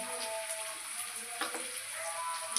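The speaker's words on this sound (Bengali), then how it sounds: "পেঁয়াজটাকে লাল লাল করে ভাজা হবে, লাল লাল করে যেমন মশলাটা কষাতে হবে।" Chopped onions and spices fry in a pan while a mixed-lentil fritter curry is being made. The sizzle is faint and steady, with a few soft crackles and stirring clicks.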